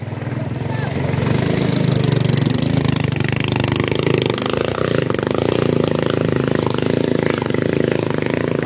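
Racing boat engine running on water during practice, a loud steady mid-pitched motor drone that holds without a break, with a faint edge of wind and water under it.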